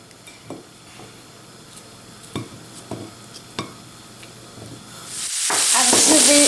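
Sliced potatoes and onions browning in a pan, with a spatula giving several scattered scraping stirs against the pan before a loud, steady sizzle swells up near the end.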